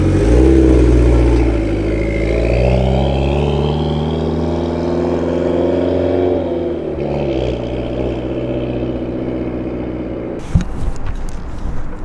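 A car engine runs close by with a steady, rough idle, its deep humming tone drifting slightly in pitch as it settles, before a clattering bump near the end.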